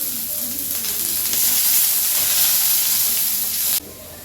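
Lentils hit fried onions in hot oil and set off a loud, continuous sizzle that swells, then drops off abruptly near the end.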